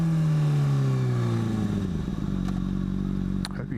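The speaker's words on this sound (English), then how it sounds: "I paid a lot of money for that exhaust." A motorcycle with an aftermarket exhaust revs and settles: a loud close engine note slides downward, then idles with a throbbing rhythmic burble and a couple of brief clanks near the end.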